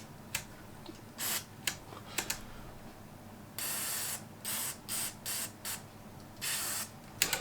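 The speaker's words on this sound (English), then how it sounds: "it's had a liberal squirt of switch cleaner there, and I'm working the switches" Aerosol switch cleaner sprayed in short hissing bursts into the switches of a Trio 9R-59DS radio receiver, about ten close spurts of varying length separated by quiet gaps, with faint clicks between them.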